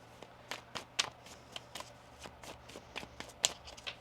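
A deck of tarot cards is shuffled by hand in quick, quiet bursts of riffling and snapping, close and alone with no talk.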